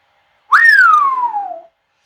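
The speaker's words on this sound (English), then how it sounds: "Play whistle, ref." A single long referee whistle blast in Football Manager 2020, rising sharply then gliding slowly downward in pitch for about a second, loud and clear with no talk over it.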